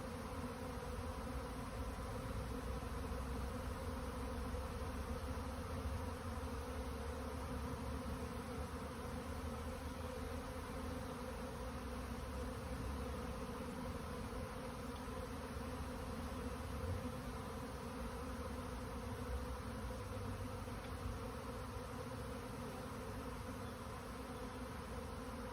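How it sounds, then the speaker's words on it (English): Thousands of swarming honey bees cross an outdoor yard in Jackson, New Jersey, making a dense, continuous buzzing drone that stays steady and close throughout with no talking. "I have thousands of bees going across my yard."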